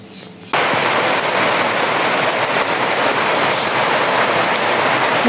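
Heavy early-morning rain pours down in a village. A quiet start gives way abruptly to a loud, steady roar of downpour close by.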